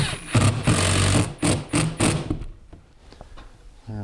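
A power drill whirs loudly in short bursts as it drives a flathead screw into a wooden stud to countersink it, the motor revving and stopping several times, close up with no talking.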